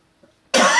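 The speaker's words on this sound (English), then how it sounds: "As you can see, I've still got a cough as well." A single harsh cough bursts out after a quiet moment, loud and close, with broadband rasp that sustains briefly.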